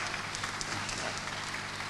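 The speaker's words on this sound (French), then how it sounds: "Sous vos applaudissements" Steady, dense applause from a congregation at a church sanctuary dedication, continuous clapping filling the whole moment without pause.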